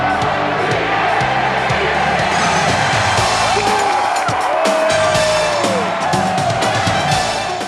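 A capacity crowd of 78,114 fills the Orange Bowl in Miami for a college football rematch against Washington, a loud sustained roar with rising cheers and whoops and a low rumble underneath.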